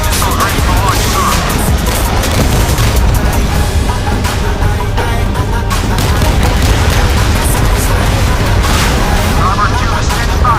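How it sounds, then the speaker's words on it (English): Missile launches and explosions in the naval combat game Modern Warships, a loud continuous barrage of booms and blasts filling the whole clip with no pause. "Missiles ready for launch, sir."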